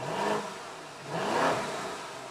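A Lamborghini Urus in Corsa track mode, stuck in a Malaysian traffic jam, revs its engine twice in quick succession, each swell rising and falling loudly without any speech.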